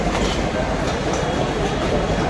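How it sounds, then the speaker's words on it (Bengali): Krishnanagar local train at a station platform, a steady loud rumble of rail cars and clattering wheels filling the scene continuously with no pauses. "ব্রিজ পার ওই পারে 3 নম্বরে দাঁড়িয়ে আছে কৃষ্ণনগর লোকাল, এই যে ব্রিজের পেছনে লোকাল।"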